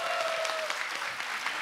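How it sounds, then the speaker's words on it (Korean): Brief burst of audience applause in a Korean TV singing competition studio, dense steady clapping at moderate level with a faint tone lingering early on. "우리 언니께 큰 박수 보내주세요."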